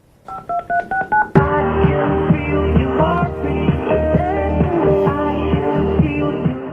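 A quick series of about six telephone keypad tones beeps, then a loud burst of music takes over and plays on.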